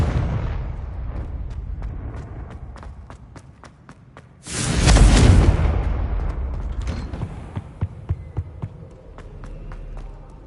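A Confringo blasting spell explosion in Hogwarts Legacy, heard as a sudden loud roaring burst midway that decays over a couple of seconds, surrounded by steady rumble and a series of sharp rhythmic clicks, with no speech.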